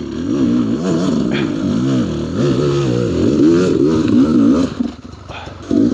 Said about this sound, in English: All right, here comes Mike on the beta